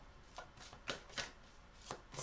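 Tarot cards are shuffled by hand during a reading, giving quiet, close riffling and several sharp card flutters at irregular intervals, with no talking.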